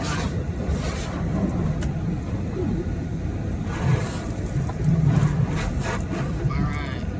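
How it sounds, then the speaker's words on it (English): A car rolls through a drive-through car wash, with a steady rumble of water spray and machinery, louder swells as the equipment passes, and faint voices in the background. "Yes, getting the car washed today."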